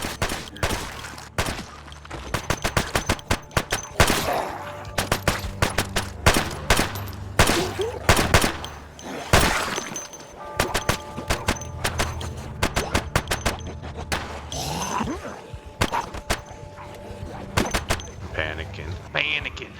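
Gunfire in the video game Project Zomboid from one of its worst guns: repeated sharp, loud shots, some isolated and some in quick bursts, scattered across the whole stretch over other game noise.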